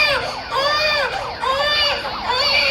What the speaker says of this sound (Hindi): कुछ बच्चे के रोने की आवाज आ रही है।